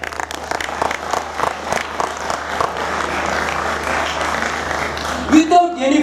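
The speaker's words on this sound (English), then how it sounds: "Can I expect a round of huge applause from you all?" A crowd claps steadily, loud and close, the applause thinning out toward the end as a voice begins.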